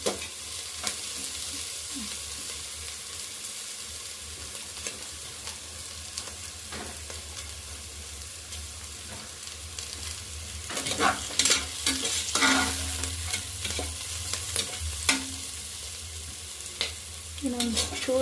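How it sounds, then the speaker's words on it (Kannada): Ingredients for soya pulao frying in an oiled pan, a soft steady sizzle close by with occasional scrapes and clatters of a spoon stirring, busier stirring toward the end, and no one speaking. "ಅದನ್ನು ಸ್ವಲ್ಪ ಫ್ರೈ ಮಾಡ್ಕೋಬೇಕು."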